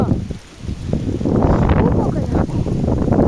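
Strong wind from an approaching storm roars and buffets the microphone in a steady, loud, rumbling gust with no pause.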